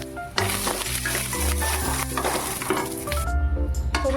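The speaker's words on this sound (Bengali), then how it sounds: "বড়িটা আমি ভেজে নিচ্ছি।" Bori lentil dumplings frying in oil in a pan make a steady, close sizzle, with a few clinks and scrapes of stirring now and then.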